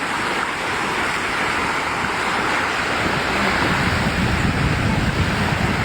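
Surging seawater from a tsunami floods a beach in Governor Generoso, Davao Oriental, Philippines, a loud, unbroken roar of surf with wind buffeting the microphone throughout.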